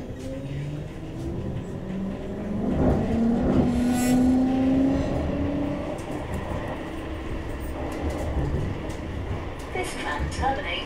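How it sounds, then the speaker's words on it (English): A CAF Urbos 3 tram of the West Midlands Metro pulls away from a stop, its motor rising in a tonal whine and rumble that swells then settles as it gathers speed, with a recorded announcement heard over it. "Please hold tight. This tram is about to depart."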